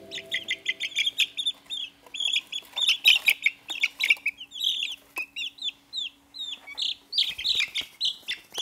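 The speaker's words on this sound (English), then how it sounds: "Could you hear my chickies?" Baby chicks peeping continuously, a dense stream of high, bright chirps from at least two birds close by, over a faint steady hum, with no voices.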